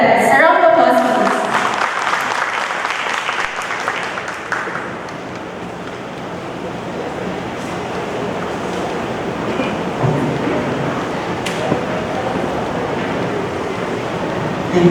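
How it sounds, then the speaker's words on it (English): An audience at a provincial regional development plan event applauds to welcome the vice governor, with broad, sustained clapping that swells at first and then continues as a steady wash. A voice is briefly heard at the start. "A round of applause, please."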